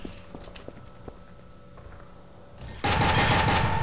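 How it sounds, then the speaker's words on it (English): An overclocked submachine gun in the video game E.Y.E. Divine Cybermancy opens fire after a quiet stretch of soft footsteps, a sudden loud, rapid stream of shots that fills the last second. "But it really has to be fired in bursts, because your accuracy goes to pot pretty quickly with it."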